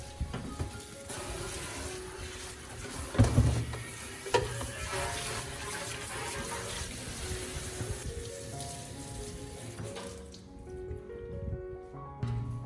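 Running tap water splashes and patters steadily over a metal air fryer basket with a few clanks, near and moderately quiet, before the flow stops.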